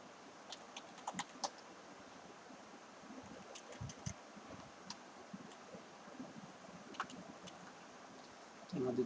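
Scattered, faint keystrokes as a description is typed on a computer keyboard in a digital marketing class, soft irregular taps over quiet room noise with a voice near the end.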